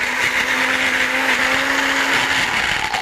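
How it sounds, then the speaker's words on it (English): A small handheld blender whirs steadily while blending vegetables, a loud continuous motor hum that keeps going for the whole stretch with no talking. "in this handy little blender here, I'm going to shake it up a little bit and blend it up"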